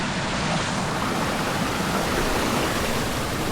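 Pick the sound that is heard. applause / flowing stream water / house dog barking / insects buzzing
flowing stream water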